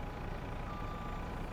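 A JCB tractor engine idles low and steady in a farming game while carting straw. A faint thin electronic tone runs briefly through the middle over the rumble, with no voices.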